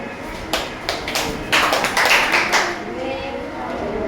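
Children in a classroom give a welcome clap, a few scattered claps, then a burst of rhythmic group clapping in the middle that fades out, with a teacher's voice heard around it.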